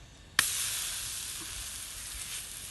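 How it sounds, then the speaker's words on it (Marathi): A spicy flatbread (thalipeeth-style bhakri) drops onto an oiled griddle over a wood stove, a sharp contact followed at once by a loud, close sizzle that hisses steadily and slowly fades. "आता आपण तव्याला तेल लावून घेतलेलं आहे आणि त्यावरती आपण ही तिखट भाकर टाकणार आहोत"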